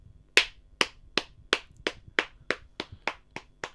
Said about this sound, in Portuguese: Galera aplaudindo aqui, velho.